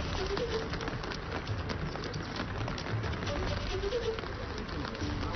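Heavy rain during flooding in Dharashiv district, Maharashtra, a dense continuous hiss of rain pattering on surfaces throughout, with a voice speaking over it.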